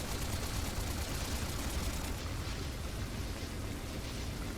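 Dense, continuous gunfire from the PS5 game Trails Through Daybreak 2, a loud sustained barrage of rapid shots with no pauses, no talking.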